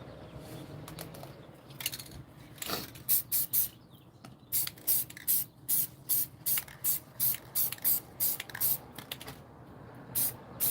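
Spray paint can hissing onto art in quick repeated bursts, faint hiss at first and then a regular series of short, sharp sprays close by with no talking.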